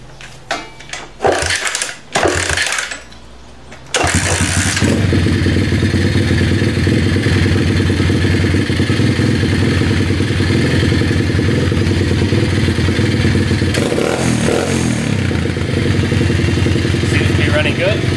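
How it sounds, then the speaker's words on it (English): A dirt bike engine after an oil change, cranked with a few sputtering attempts before catching, then idling loudly and steadily close by for the rest of the clip. A voice is heard near the start. "just start it up, make sure everything runs good"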